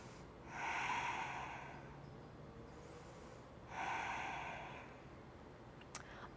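Two slow, soft breaths in a quiet room, each a long airy exhale during a yoga bridge pose, followed by a faint click.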